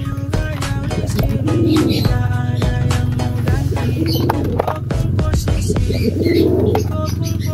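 A domestic male pigeon coos loudly and close by in repeated low throaty phrases, with faint chirps and background noise around it.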